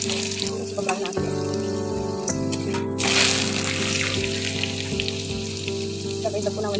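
Avalakki mixture, a flattened-rice snack, fries in a pan with a steady, loud sizzle and a few scraping stirs, with no talk.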